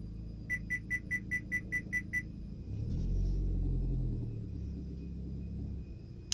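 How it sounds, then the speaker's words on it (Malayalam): A car reversing out of a parking space: a string of about eight evenly spaced reverse-warning beeps, then a low engine rumble that swells as the car moves back and then settles. "ഇപ്പോൾ ഞാൻ റിയർ വ്യൂ മിറർ നോക്കിയാണ് റിവേഴ്സ് എടുക്കുന്നത്."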